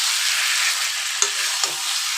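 Cooked-down chicken masala sizzles loudly in hot oil in a pan as hot water is poured in, a dense continuous hiss with a couple of sharp pops and spatters close by.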